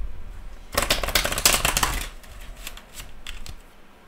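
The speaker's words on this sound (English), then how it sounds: "let's just shuffle them up a bit more." A deck of playing cards is riffled and shuffled up close, a dense burst of crisp flapping clicks lasting over a second, then softer scattered taps as the cards settle.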